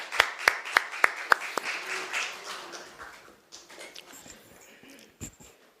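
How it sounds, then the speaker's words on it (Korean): A few sharp, evenly spaced claps ring out close by in a church service, followed by a softer, scattered patter of applause from the congregation that fades away, with one more stray clap near the end. "앞에 큰 영광의 박수 올려드리겠습니다."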